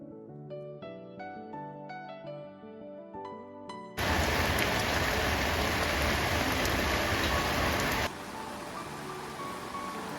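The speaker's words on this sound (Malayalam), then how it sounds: "ഇന്ന് നല്ല മഴയുണ്ടായിന് നല്ല തണുപ്പും ഉണ്ട്" A few seconds of melodic chimes give way to a dense, steady hiss of heavy rain, which softens slightly toward the end.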